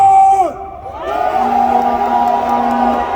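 Rally crowd of teenagers roaring a loud, sustained shout outdoors at a political rally, with a public-address voice briefly heard at the start before the cheering swells and holds.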